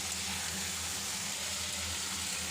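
Vegetables fry with salt and turmeric in a pan for shukto, giving a steady, soft sizzle that runs evenly throughout without breaks.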